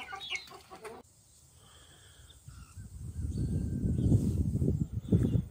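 Hens cluck at feeding time on a small farm, a few close clucks at first, then a steady busy rustling and pecking noise that grows louder as the birds crowd in to eat.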